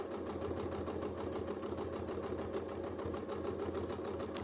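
A sewing machine doing free-motion quilting of long, narrow feather motifs runs at a steady, fast, even stitching rhythm, close and continuous throughout, with no talking.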